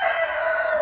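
A dwarf Cochin rooster crows close by, a short loud sustained call with no other sounds around it.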